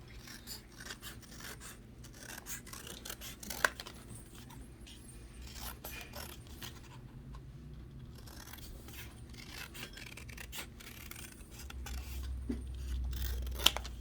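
Scissors snipping through a sock while crafting a sock penguin, a steady run of faint rasping and scraping cuts with a couple of sharp clicks, close and quiet over low room noise.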